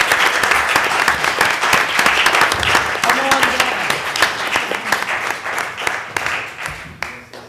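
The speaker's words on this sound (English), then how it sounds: "giving Lisa a well-deserved round of applause for 20 years of service" A room full of people at a college board of trustees meeting applauds steadily, dense clapping holding for several seconds before thinning out toward the end.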